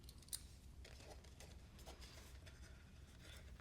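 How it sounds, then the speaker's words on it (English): A single small snip from scissors cutting off a product tag stands out early, close and faint, over a quiet room background with light rustling. "Cut this tag off."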